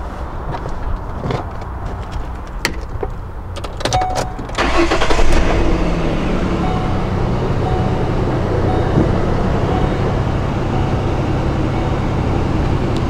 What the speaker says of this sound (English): So let me start the vehicle.